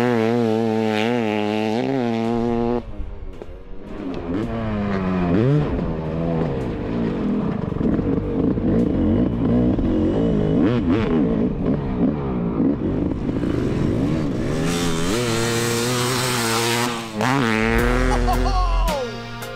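Two-stroke dirt bikes, a 500cc Yamaha and a fuel-injected 300cc Husqvarna, race laps on a track, their engines droning and revving loudly and steadily throughout, rising and falling as they pass.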